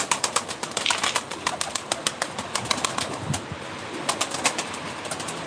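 A game pigeon brought from Germany, at a live bird auction in Ankara, flaps its wings in repeated sharp claps amid soft cooing and other bird calls, fairly close and steady throughout.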